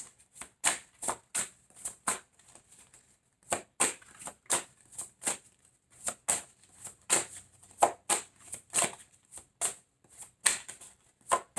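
Tarot cards are shuffled by hand in a quick series of crisp, papery riffles and snaps. The close bursts come in uneven groups separated by short pauses.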